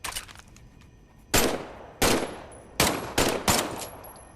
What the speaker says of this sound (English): why don't you test fire your weapon?